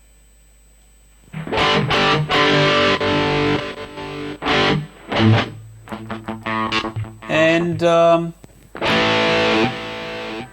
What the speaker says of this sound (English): I think you can get some decent effect tones out of this unit